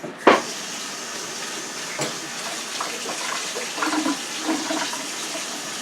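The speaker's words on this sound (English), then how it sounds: "Let me wash my hands." A kitchen tap runs water for hand washing while cooking a sweet potato casserole, a steady close splashing rush after a sharp knock at the start, with small shifting splashes as hands move under the stream.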